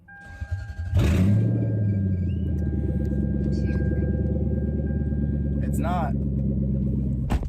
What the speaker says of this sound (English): I'm gonna let you guys listen to what it sounds like right now, because it's actually decently loud, just being a header dump